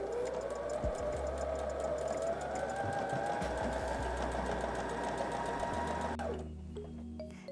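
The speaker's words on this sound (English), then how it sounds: "with some denim fabric, I've changed the needle to a denim needle and chosen a longer straight stitch again" Sewing machine sewing a longer straight stitch with a denim needle through two layers of denim fabric, a steady close whirring hum for about six seconds before it slows and stops.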